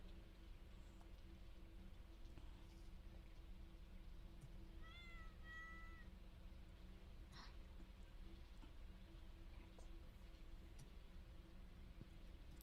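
A pet cat named Teddy gives a short, faint meow or two in the middle of a quiet room over a steady low hum, with no one speaking.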